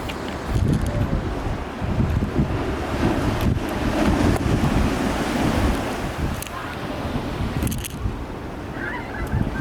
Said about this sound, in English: We are on the beach, so let me show you the scene right now